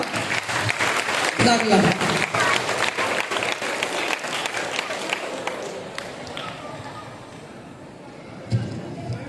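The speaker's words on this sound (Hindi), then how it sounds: "तालियों से इस्तेमाल कीजिए इन सबका।" Quiz competition audience breaking into loud, sustained applause that fades toward the end, with a few voices mixed into the crowd noise.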